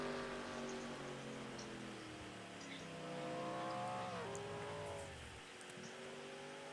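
A race car on pit road at Laguna Seca during a special non-points race: a steady, fairly loud engine drone with shifting pitch that drops as the car slows near the end.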